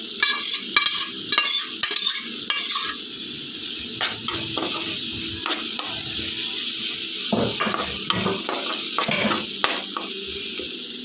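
Boiled green peas stirred and frying in a pan with garam masala, giving a steady sizzle with scraping spoon strokes against the pan throughout, loud and close.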